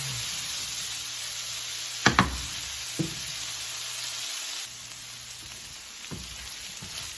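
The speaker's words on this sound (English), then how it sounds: "Gonna keep sauteing that in pan for a little while." Onions, carrots, potatoes and chicken sauté in a pan with a steady, soft sizzle, broken by a few knocks and scrapes of a utensil stirring the mix; no speech.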